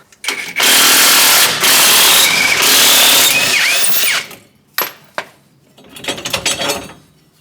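Power tool spinning off U-bolt nuts on a vehicle during a bump stop install, loud buzzing bursts of a few seconds each followed by clinks and lighter rattling of parts.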